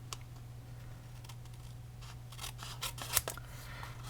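Paper snips cut designer series paper, giving a few crisp snipping clicks near the end over a steady low hum, close and fairly quiet.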